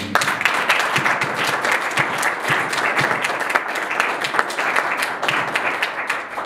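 A workshop audience claps loudly to welcome a guest speaker, dense crowd applause close by with sharp, distinct hand claps running steadily for several seconds.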